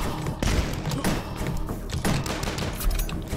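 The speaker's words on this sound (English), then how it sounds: "Yeah, I'm gonna use the mortar." Mortar weapon firing in the retro shooter game Dusk, a string of loud booming thumps and blasts in rapid irregular succession, close and punchy with overlapping explosions.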